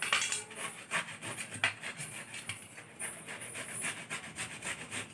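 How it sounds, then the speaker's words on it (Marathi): Cucumber grated by hand on a kitchen grater for a traditional Konkani cucumber dish, a steady run of close, scratchy rasping strokes in an uneven back-and-forth rhythm. "आता किसून घेऊया।"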